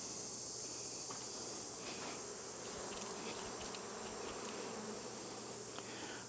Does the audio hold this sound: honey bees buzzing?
yes